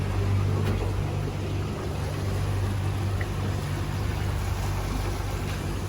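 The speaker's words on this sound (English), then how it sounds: "Mama's driving the boat." Constant low engine drone of a motorboat running steadily on Alaskan waters while setting out to drop a crab pot, with water and wind noise, no voices.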